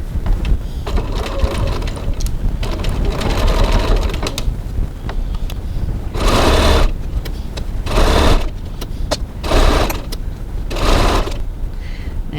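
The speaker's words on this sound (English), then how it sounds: "now we're going to stitch these side seams using a 1 cm 3/8 of an inch seam allowance" A sewing machine stitches the side seams of a cross-body bag at a 2.4 stitch length, running in a steady loud whir with several short, faster bursts near the end and no talking.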